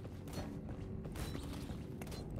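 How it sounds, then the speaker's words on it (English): A door mechanism creaks and grinds as it opens in the co-op horror shooter GTFO, a steady, dense mechanical groan that runs through the whole moment alongside rumbling game noise. "Oh, I should open the door."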